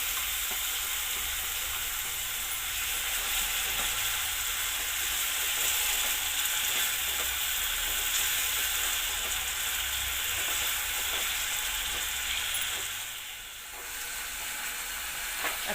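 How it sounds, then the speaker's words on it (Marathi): Softened onion and tomato paste sizzle steadily in a hot pan at home, a dense close frying hiss with faint stirring scrapes, easing briefly near the end. "आता कांदा आपला मऊ होत आलाय, त्याच्यात मी टमाट्याची पेस्ट घालते"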